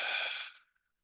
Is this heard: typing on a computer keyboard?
no